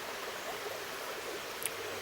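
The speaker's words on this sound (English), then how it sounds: "the gentle waters passing over rock" Gentle water runs over rock in a stream near Crieff, a soft, steady, even rush with no pauses or voices.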